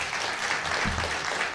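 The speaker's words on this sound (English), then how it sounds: "Give another round of applause for our award winners here tonight." An audience at an awards ceremony applauds in a steady, full wash of clapping, fairly loud and continuous, with a faint voice briefly audible underneath.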